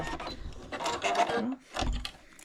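Sewing machine back-stitching the end of a small quilted coffin keychain, short bursts of mechanical whirring with a brief pause between them, close and moderately loud.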